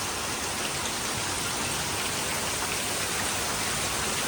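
Steady rain falls at a Kankrej cattle farm, a constant broadband hiss of drops on surfaces with no letup and nobody talking.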